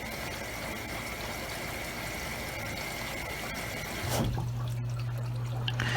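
A Maytag washer runs its bulky items cycle on a load of pillows, giving a steady mechanical hum with sloshing water. After about four seconds it shifts into a deeper, louder motor drone.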